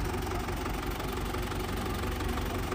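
A Belarus diesel tractor engine runs at a steady idle-like chug with a continuous low rumble and knock, close by and alone, with no talking.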